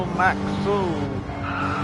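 A racing car spins out at a corner, its tires squealing in short wavering skids over engine noise. A voice talks over the sound.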